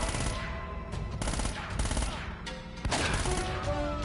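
Shotgun and other gunfire in the video game Uncharted: Drake's Fortune ring out in loud, repeated bursts over a dense combat background.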